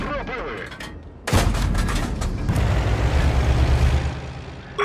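Matilda Black Prince tank gun firing in a video game, a sharp loud blast followed by a long rumbling boom and lingering reverberation, with faint crackles before and another shot starting at the end.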